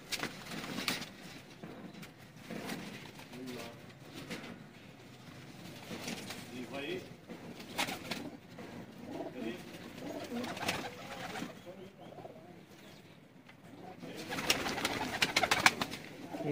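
Pigeons coo softly and repeatedly nearby among the kept birds, with someone speaking over them throughout and a brief burst of louder rustling near the end.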